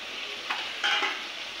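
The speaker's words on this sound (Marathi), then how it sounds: "यांना चांगला रेडनेस येईपर्यंत त्याला चांगले फ्राय करून घेऊ." Prawns fry in a pan with a steady close sizzle, punctuated by a couple of soft scraping stirs of the spatula.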